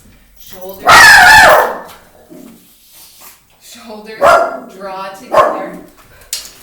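A pet dog barks loudly indoors during a home yoga class, with one sharp burst of barking followed by a few shorter yips, interrupting the instructor's calm spoken cues.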